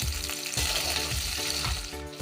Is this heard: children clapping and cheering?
no